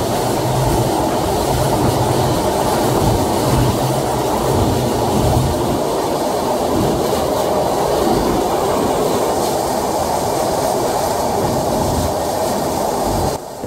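Wheels of the Madhumati Express from Dhaka to Rajshahi clatter steadily on the rail line over the Padma Bridge, a loud, continuous rolling rumble with no voices.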